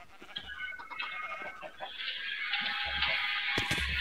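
Farm animal calls from Minecraft, bleat-like livestock cries over a steady game tone, moderately faint, with someone talking at times.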